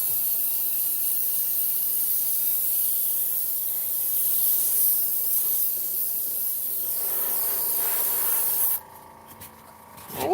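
An air compressor runs in a craft room while paint is sprayed, giving a long steady hissing spray over a low motor rumble, before the spray cuts out near the end, leaving quieter mechanical hum.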